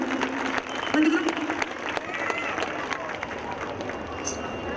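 Audience applause for a ladies' group at a community tribute event, a dense steady patter of many hands clapping throughout with faint crowd murmur underneath.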